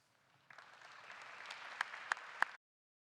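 An audience applauds to welcome a speaker at a Black History Month talk. The clapping starts abruptly, holds steady for about two seconds with a few sharp, louder claps near the end, then stops cleanly.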